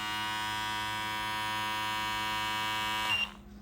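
A Brio Beardscape V1 beard trimmer runs with a steady, close electric hum and buzz that cuts off abruptly near the end.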